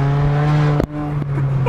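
A car engine downshifting into first gear, heard as a loud, steady droning hum from up close that is broken by a sharp thump and a brief dip as the gear changes, after which the drone carries on.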